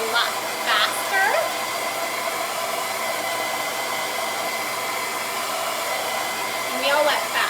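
A handheld hair dryer blows through hair and a vented brush, a loud steady whooshing roar held throughout with faint brushing strokes at the start and end; a voice murmurs briefly underneath.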